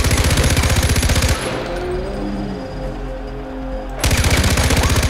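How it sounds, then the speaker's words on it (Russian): Rapid machine gun fire in the video game Far Cry 4, loud and dense bursts at the start and end with a quieter gap of rumbling game ambience between. "Мощный пулемет, очень, не зря я его купил."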